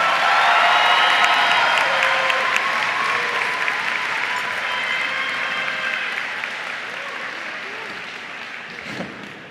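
A large graduation crowd bursts into sustained applause for the salutatorian, loud from the start with cheering and whoops riding over dense clapping, gradually easing over about ten seconds.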